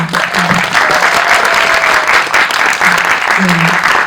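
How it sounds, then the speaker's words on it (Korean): A cinema audience applauds during a post-screening Q&A for a Korean film, producing loud, continuous, close clapping throughout, with a few voices speaking briefly over the applause. "진심이 느껴지신 분들은 네, 크게 박수를 한번."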